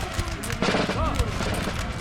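Massed musket volleys from line infantry firing on Russian troops in Napoleon: Total War, a dense crackle of overlapping shots with booms, mixed with battle din and faint voices.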